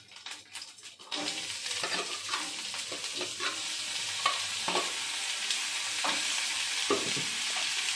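Garlic frying in a pan: after a quieter first second, a loud, dense sizzle swells up and stays steady, with occasional stirring clicks breaking through, heard up close.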